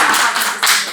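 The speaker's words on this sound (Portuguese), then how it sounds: "Uma salva de palmas pra Bárbara." Audience clapping for a colleague at an optical shop team training session, a dense steady patter of many hands that swells briefly partway through, heard alone without talk.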